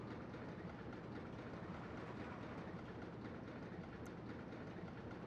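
The small ladybird-themed junior roller coaster train in RollerCoaster Tycoon Classic rattles steadily along its track with continuous clickety-clack rumbling, faint and even throughout with no voices.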